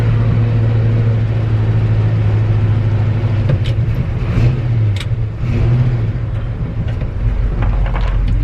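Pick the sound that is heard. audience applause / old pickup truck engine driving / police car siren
old pickup truck engine driving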